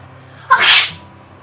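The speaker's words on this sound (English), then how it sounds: "that was a loud sneeze" A single loud, sharp human sneeze bursts out close by, then fades quickly into quiet room tone.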